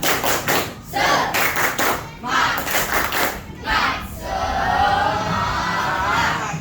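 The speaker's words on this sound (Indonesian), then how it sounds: "Tepuk semangat" A primary school class in Indonesia claps out the rhythmic 'tepuk semangat' pattern, short bursts of clapping with brief pauses and group shouts, ending in a longer stretch of cheering and chatter from the children.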